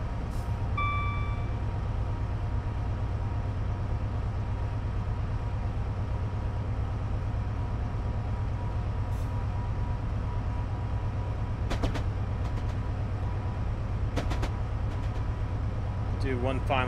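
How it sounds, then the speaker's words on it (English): A Class 70 Freightliner freight train in Train Simulator 2016, on a South Wales coastal route, gives a steady low rumble that runs the whole time, with a few brief high squeals and clanks over it and no talk. "Do one final train by if I can get it"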